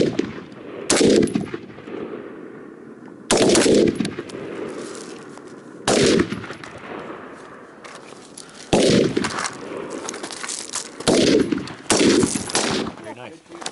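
Rifle shots ring out at a night shooting range, five loud sharp cracks spaced a couple of seconds apart, each with a short decaying echo, with faint talk between them.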